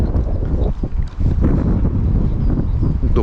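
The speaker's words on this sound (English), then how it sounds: "The wind is like so fucking intense." Strong wind buffets the microphone outdoors in a continuous, loud rumbling roar with brief dips, no voices.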